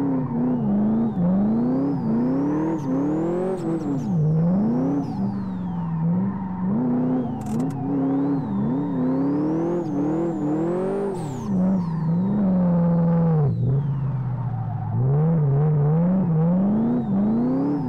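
A Ford Landau 5.0 turbo in the racing game Live for Speed revs loudly and continuously, its engine note climbing and dropping through repeated accelerations and gear changes, with brief tire squeals and no voices.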